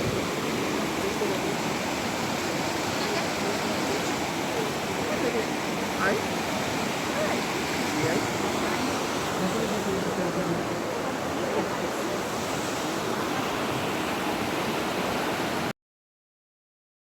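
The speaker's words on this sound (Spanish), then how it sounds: "Este es el río Oyacachi." The Oyacachi river in Ecuador flows in a steady, dense broadband rush, with the water noise continuous and fairly close throughout, with no clear voices.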